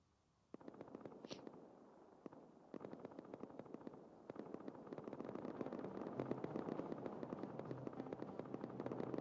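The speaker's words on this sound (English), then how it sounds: "a lot of AK fire over here" Sustained AK rifle fire in a video game sounds as dense, rapid bursts of cracks starting abruptly after a moment of quiet, then building into a continuous, growing barrage of overlapping shots.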